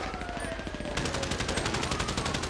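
Rapid gunfire in the video game GTA 5, a steady stream of sharp repeated shots that grows louder and denser partway through, close and continuous.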